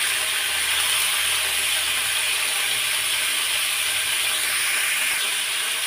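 Potatoes and vegetable stalks hiss and sizzle steadily in hot oil in a pan for cauliflower fry, a dense continuous frying crackle with no voices.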